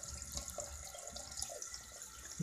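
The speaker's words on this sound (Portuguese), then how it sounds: "Agora eu vou dar descarga aqui. Ó, dei meia descarga." A toilet's close-coupled cistern gives a half flush, water rushing and gurgling steadily into the bowl at close range, with no talking over it.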